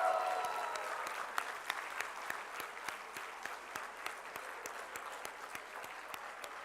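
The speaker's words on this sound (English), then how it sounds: "give them a very big round of applause and the loudest possible cheer" Graduates at a management programme ceremony stand and applaud their families, a broad wash of clapping with sharp individual claps standing out, holding steady and fairly distant across the hall without talk.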